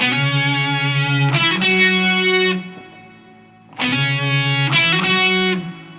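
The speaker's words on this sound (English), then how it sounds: "See how chorus just opens up octave fuzz?" Fuzzy, octave-doubled electric guitar chords with a shimmering chorus wobble from a Walrus Audio Fundamental Chorus pedal, two sustained phrases separated by a brief quiet gap.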